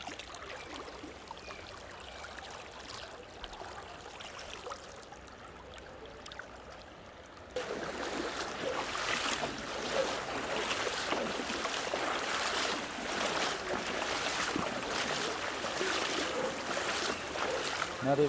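Flash flood water rushes along the Mopan River in Belize, a steady broadband roar that swells louder halfway through and stays dense and continuous, with no talk over it.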